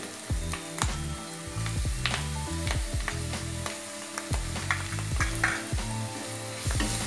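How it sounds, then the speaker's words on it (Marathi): Green chillies sautéing with ginger-garlic paste and onion in a pan, a close, steady sizzle broken by repeated scraping and stirring strokes of a spoon against the metal, with tonal background sounds underneath. "ही चांगली परतून घ्यायची"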